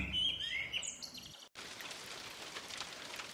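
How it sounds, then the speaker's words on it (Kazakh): Birds chirp and twitter at first, then a steady hiss of rain falling fills the rest, soft and even. "Жаңбырдың дыбысын тыңда."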